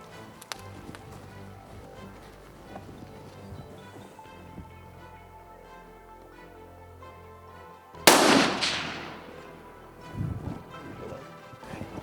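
A rifle shot fired at an impala during an African hunt gives a single sharp, loud crack midway, rising out of quiet outdoor ambience, with a softer rustle afterward.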